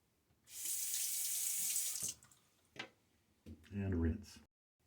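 A Gillette Aristocrat 1934 safety razor is rinsed under a running tap, a bright rush of water for about a second and a half, then clinks and a brief splash as the razor is handled.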